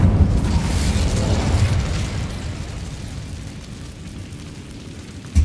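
A Bombarda spell blast goes off in Hogwarts Legacy, a loud rumbling boom that swells at the start and slowly settles into a dense low roar, with a sharp pop right at the end.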